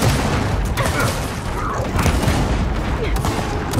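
Dense, continuous gunfire from a Gears of War 4 firefight, loud and sustained with overlapping bursts and booms throughout.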